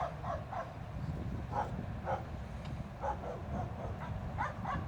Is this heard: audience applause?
no